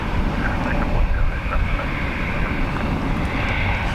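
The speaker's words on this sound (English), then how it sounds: "Runway 10 right, take off." Jet airliner rolling for takeoff on runway 10 right at Dublin Airport, a loud continuous engine roar with heavy low rumble and wind buffeting on the microphone, steady throughout.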